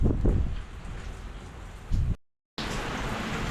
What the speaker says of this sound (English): So it all takes time, sitting there in the pouring rain.